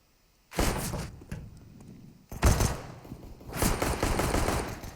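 Gunfire in a Counter-Strike: Global Offensive match on Mirage, with sharp bursts of shots and a heavy thud breaking the quiet, followed by sustained rattling fire.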